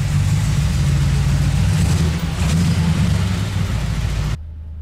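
A 427 Corvette's V8 runs loud and close, its deep idle rumble rising briefly as the engine revs before cutting off abruptly near the end; no one speaks.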